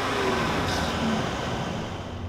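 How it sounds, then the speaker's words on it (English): A 2018 Mercedes-Benz E400 Cabriolet engine idles steadily with the hood open, a smooth, even hum heard on its own at moderate level. "So now let's take a quick listen to how this engine sounds."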